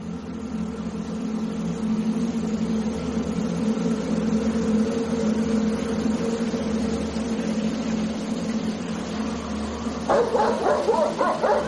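Dogs bark in a rapid cluster near the end, after a long stretch of steady low rumbling background noise.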